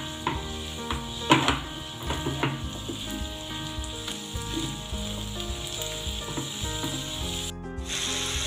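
Pizza sauce with black pepper and oregano frying in a pan, a dense, continuous close sizzle with a few soft stirring scrapes early on, no voices.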